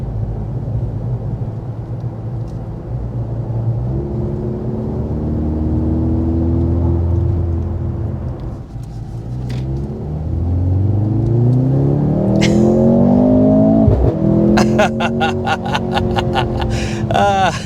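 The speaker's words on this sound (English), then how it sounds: "twist that to sport and turn on the performance exhaust" A 2023 Mercedes C43 AMG with performance exhaust in sport mode, engine rising and falling through revs with rumbling, then a sharp climb ending in a burst of exhaust crackles and pops, close and loud.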